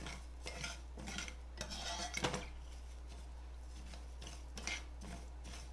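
A utensil scrapes and clinks against a pot while rice browns in shortening, soft intermittent stirring strokes with occasional louder knocks over a steady low hum.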